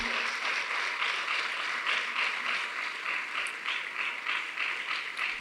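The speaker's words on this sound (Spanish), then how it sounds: "Démosle una ofrenda de palmas al Cristo de la gloria, por favor, hermanos." A church congregation gives an offering of applause to Christ during a Spanish-language service, a steady, dense wash of clapping that fills the room evenly from start to finish with no voices over it.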